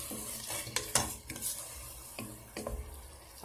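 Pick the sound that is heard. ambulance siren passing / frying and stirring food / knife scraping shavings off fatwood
frying and stirring food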